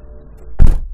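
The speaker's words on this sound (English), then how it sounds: "When you close the door," A BMW 335i car door swings shut with one solid, close thunk that rises out of a low, steady cabin hum and quickly fades.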